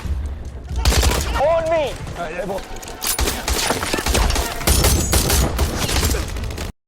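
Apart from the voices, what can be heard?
gunfire in a film firefight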